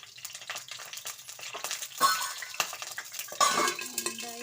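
Tempering spices, bay leaf, a piece of cinnamon, two cloves and stone flower, stirred in a pan for rajma curry, with light scraping clinks of a spoon against metal over a soft sizzle, close and intermittent.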